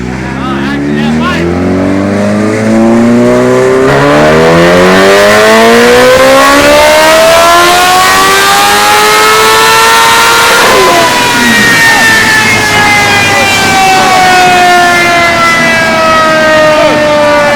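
Kawasaki Ninja H2 motorcycle revving hard on a dyno, engine pitch sweeping up in a long loud rising whine, peaking and holding high, then settling, with voices in the background.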